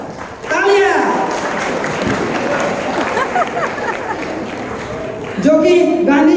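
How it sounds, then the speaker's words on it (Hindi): During a school skit for Gandhi Jayanti, a crowd applauds with a loud, dense wash of clapping and voices. Speech is heard briefly before and after the clapping. "तालियां।"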